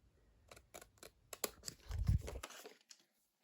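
Scissors cut through vellum paper in a quick run of small crisp snips up close, followed by a softer rustle of the paper and then quiet.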